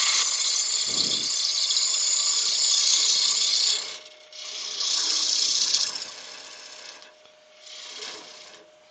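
Wood lathe spinning soft wood, a steady broadband whirring rasp that runs loud and continuous, dips briefly, then returns in sustained stretches with short pauses between, close up and alone.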